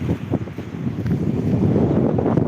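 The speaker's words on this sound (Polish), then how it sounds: "Mega wiatr." Strong wind buffeting the microphone, a loud low rumble with gusty surges throughout.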